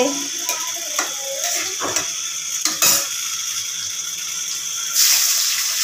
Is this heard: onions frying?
yes